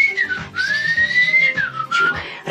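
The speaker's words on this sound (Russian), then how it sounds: "Насвистывай" A person whistles a wavering tune indoors, clear and close, with the melody sliding up and down over a few phrases.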